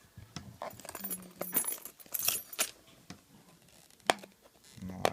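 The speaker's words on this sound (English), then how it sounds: "I'm gonna use the keys." Keys jangle close to the microphone in a handful of short metallic clinks and rattles, scattered irregularly across a quiet indoor room.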